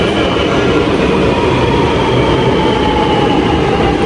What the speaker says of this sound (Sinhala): අන්නක තමයි අපේ ට්‍රේන් එක